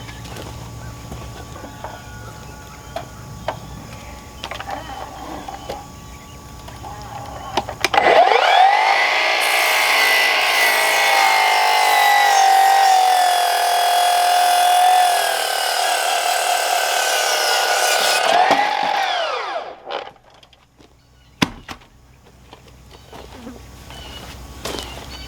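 A power saw cuts 2x6 lumber for a large gantry hoist, giving a loud, sustained whining cut of about ten seconds that starts and stops abruptly, with quieter workshop noise before and after.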